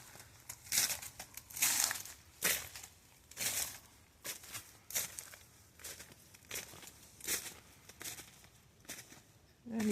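Footsteps crunch over icy ground after a winter storm in Southern Illinois. The steps are close, uneven and crackly, with a brittle crinkle at each footfall in a halting rhythm, and no one speaks.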